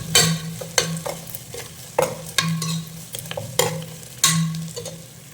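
Masala mix frying in oil in a pan while cooking fish curry, with dried red chillies added, giving a steady close sizzle broken by repeated scraping stirs of a spoon against the pan.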